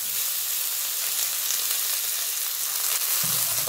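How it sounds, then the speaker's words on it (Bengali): Onion frying for fried rice gives a dense, even sizzle that fills the whole stretch at close range, with a light stirring scrape near the end and no speech. "তাহলে পেঁয়াজটাও ঢালবো"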